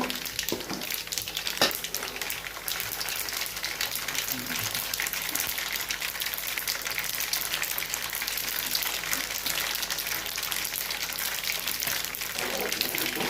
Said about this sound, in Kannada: ಸಾಸ್ಮಿ ಜೀರಿಗೆ ಚಟ್ಪಟ್ ಅನ್ಬೇಕು ನೋಡ್ರಿ